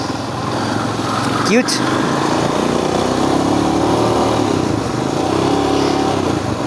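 A black KTM Duke motorcycle engine runs at a steady, close drone throughout, with people talking over it and a brief rising whine just before the two-second mark.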